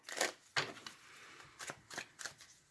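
Tarot cards shuffled by hand in a quiet room, a few separate bursts of riffling and flicking, close and fairly soft, with no voices.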